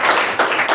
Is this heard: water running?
no